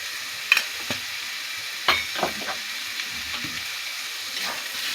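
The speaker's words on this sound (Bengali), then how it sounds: "এই পোস্তটা দিয়ে কিছুক্ষণ ভেজে নেব।" Red amaranth greens with poppy seeds fry in a pan, a steady soft sizzle broken by a few sharp clatters of stirring and tossing, close and clear with no voices.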